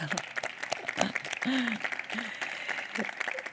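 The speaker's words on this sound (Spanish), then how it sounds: "Un aplauso, por favor." Audience applause for a speaker at an R&D projects event stage in Navarra, steady clapping of moderate loudness with a voice speaking over it in places.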